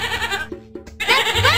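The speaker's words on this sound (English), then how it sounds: "That's right! It's a goat!" A goat in a children's farm video game bleats loudly and close, a wavering, tremulous call that breaks off briefly midway and then resumes.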